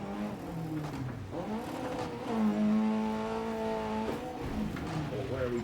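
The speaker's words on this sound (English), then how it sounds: "I do like the sound of this car." A rally car engine in EA Sports WRC revs and shifts on a snowy, icy stage, its pitch sweeping up and down with a sustained high rev in the middle, while someone talks over it.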